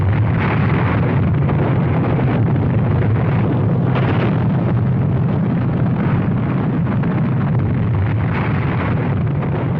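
The Fat Man plutonium atomic bomb exploding over the military port of Nagasaki: a loud, sustained roaring rumble with a deep booming low end that churns without pause for about ten seconds.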